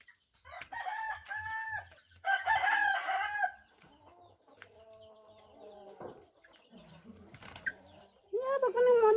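Chickens and roosters clucking and crowing in a backyard as they scuffle, with loud bursts of squawks and crows separated by quieter clucking, fairly close.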